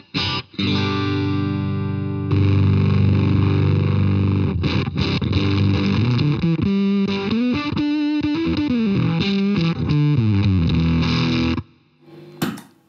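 Electric guitar played through a modern fuzz pedal gives a thick, compressed, sustained distorted tone, starting with ringing chords and then shifting into moving riffs before cutting off near the end, loud and alone.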